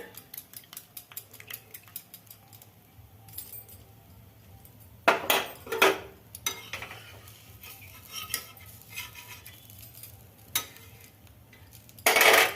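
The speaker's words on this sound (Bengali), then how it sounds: "এবার পরোটাটাকে উল্টিয়ে নেব এইভাবে উল্টিয়ে নিলাম" Egg paratha flipped on a pan for a street-style egg roll, with scattered metallic clinks and scrapes of a utensil against the pan, a louder rattling burst midway and another sharp clatter at the end, close and fairly quiet.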